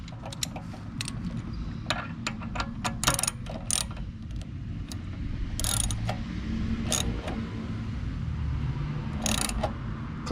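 Close ratchet clicks and metallic tool handling ring out in uneven bursts while a part is tightened on a Predator 212 small engine, sharp ticks scattered over a low background hum.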